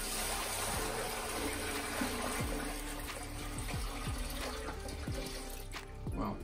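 Water is poured into a subwoofer enclosure to gauge its internal volume, about ten liters going in as a steady, close, continuous gushing and splashing that fills the whole stretch.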